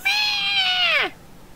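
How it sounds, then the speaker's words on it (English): A cat meows at a door in the Gregory Horror Show video game, one long, clear, loud meow that bends downward at the end, heard alone. "like a cat at the door"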